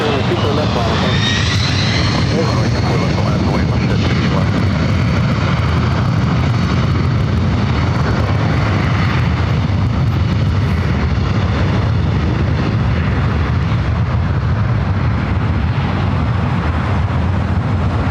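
Airliner taking off from runway 24 left, a loud sustained jet engine roar building and holding across the whole stretch, with radio and commentary voices heard faintly under the noise.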